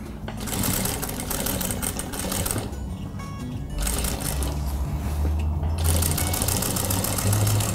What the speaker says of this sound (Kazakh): Енді екінші бөлшегін тігіп аламыз.